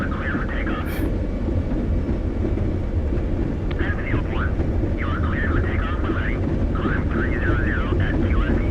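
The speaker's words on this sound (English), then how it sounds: "The engine sounds a little more consistent now." Piston engine of a P-47 Thunderbolt warbird in the DCS World flight simulator runs as a loud, steady drone throughout, with a person talking intermittently over it.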